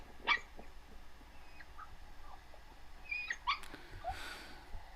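A puppy on a screen gives scattered high whimpers, yips and a couple of small barks, thin and faint over a low room hum, with gaps between cries and no talking.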